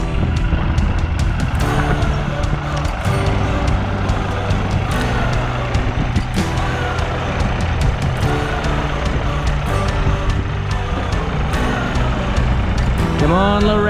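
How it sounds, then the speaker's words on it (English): A small red tractor tows a stuck truck with a chain during an Australian wheat harvest, its engines a loud, steady rumble and drone throughout, with faint voices and a brief rising whine near the end. "we're going to see if Little Red can tow the truck so that the truck can get some movement"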